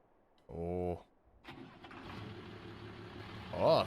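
An old, well-used tractor in Farming Simulator 22 cranks briefly, then its engine catches and settles into a steady low idle, rising in a rev near the end, fairly quiet and heard alone.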